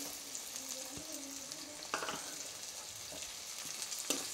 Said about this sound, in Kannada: ನಾನಿವಾಗ ಕ್ಯಾಪ್ಸಿಕಮ್ ಹಾಕೋತಾ ಇದ್ದೀನಿ.